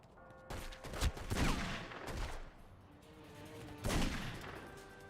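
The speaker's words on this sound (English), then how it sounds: "I'm about to go shoot this place." Rapid video-game gunfire from The Godfather, bursts of shots crackling in clusters with a louder volley near the end, loud and close, no talking over it.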